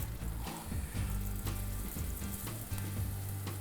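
Broken angel hair pasta fries in a pan with onion and garlic, a loud, close, continuous sizzle with crackling bursts and low bubbling beneath, and no talking over it.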